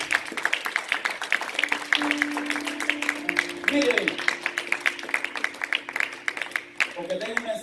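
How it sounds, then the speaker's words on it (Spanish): A church congregation applauds in a dense burst of clapping that carries on for several seconds, mixed with voices and a held sung or hummed tone in the background. "Dale un fuerte aplauso al Señor"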